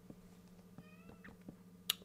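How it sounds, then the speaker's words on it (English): A house cat meows faintly in the background of a quiet room, one soft, drawn-out call, accompanied by a few light clicks and a brief sharp tick near the end. "My cat's meowing."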